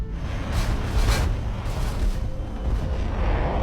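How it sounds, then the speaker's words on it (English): Swedish LvKv 90C anti-aircraft tank in War Thunder firing proximity-fuse shells at incoming jets, a dense continuous roar of rapid booming cannon bursts with no pauses. "Anti-air, Swedish LVK V9040C. With proximity fuse shells."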